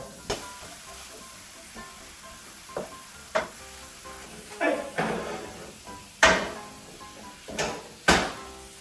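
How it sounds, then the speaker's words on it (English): Bulgogi ingredients being mixed fiercely in a bowl: a run of irregular scraping and clacking stirs, some sharp and close, with short pauses between bursts and no talking. "we're gonna need to start fiercely mixing that up right now"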